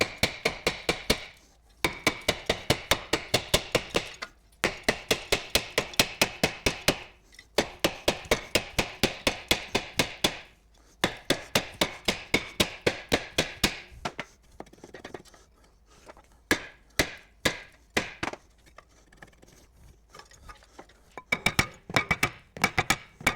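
A hammer strikes a brake disc on a MK3 Ford Focus over and over to free it. The sharp metallic blows come in fast volleys with brief pauses between them, fairly close and with no talking.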